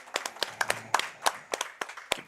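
Scattered hand clapping from a crowd at a football coaches show, a modest, uneven burst of applause heard alone with sharp individual claps.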